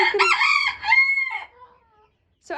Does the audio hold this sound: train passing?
no